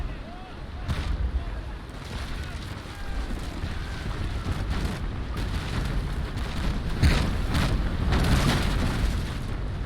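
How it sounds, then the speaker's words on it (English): Heavy booming rumble from a sailing warship's cannon broadside in the naval combat game Naval Action, a dense wash of low blasts rolling on continuously for several seconds with wind-like noise over it. "Alright, that broadside's done."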